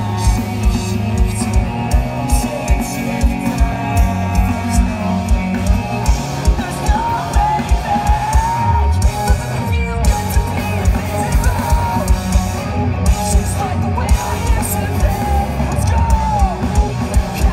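A concert crowd at the 2018 Vans Warped Tour yells and whoops continuously, loud and dense, with shouts rising over amplified music and a steady roar throughout.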